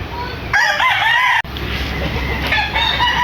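Bloodline gamecock stags and roosters crowing loudly and close in a backyard, overlapping calls with clucking from other fowl, no talk.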